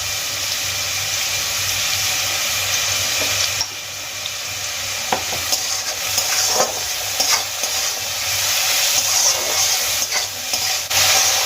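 Onions sizzle and crackle in a hot pan while a utensil stirs and scrapes through them, the frying steady and fairly close throughout.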